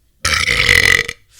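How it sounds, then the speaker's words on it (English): A single loud, sustained burp from a person, lasting about a second close to the mic, then cutting off into quiet. "how was my burp?"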